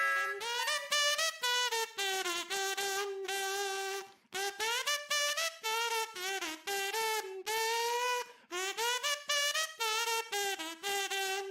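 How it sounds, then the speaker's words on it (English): A kazoo hums a buzzy, nasal tune in short phrased notes with small pitch slides, loud and close, alone with no talking. "Kazoo. It looks like a funny little whistle."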